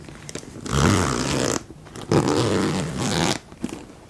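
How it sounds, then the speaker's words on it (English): A zipper on a bag's pocket pulled in two long rasping strokes with a short pause between, close and fairly loud, with a few small clicks at the end. "there's a zipper pocket."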